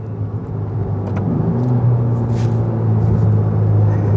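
Ferrari Roma engine held at high revs on a road drive, a steady loud rumbling whir from inside the car that rises gradually with no talk.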